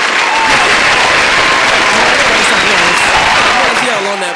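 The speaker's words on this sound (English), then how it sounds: "I want to see how long that applause really is." A studio crowd gives a long, sustained round of applause, dense steady clapping that holds loud and even throughout before tapering slightly at the end, with a voice speaking underneath.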